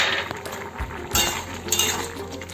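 Metal lid lifted off a cooking pot of simmering gathi kochu (taro) curry, with clinks and scrapes of pot and utensil close by over a low kitchen background.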